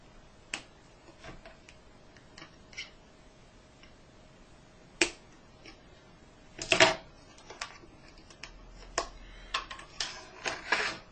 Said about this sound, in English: we'll use a pair of scissors to cut this one